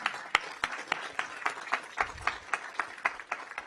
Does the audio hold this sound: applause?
yes